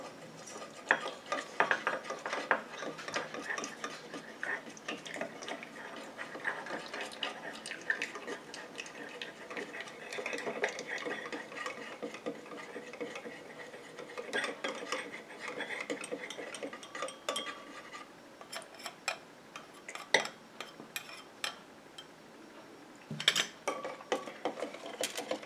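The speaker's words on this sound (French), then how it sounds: "Et je continue à mélanger comme ça jusqu'à ce que mon émulsion refroidisse et épaississe." A warm cosmetic BB cream emulsion, water phase poured into oil phase, is stirred continuously, giving steady clicking, scraping mixing sounds with small ticks throughout.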